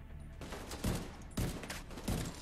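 Several sharp gunshots from The Division 2 video game crack out in a quick uneven series, loud and close against a steady background of game ambience.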